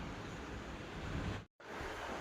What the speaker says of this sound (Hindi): हवा चल रही है अच्छी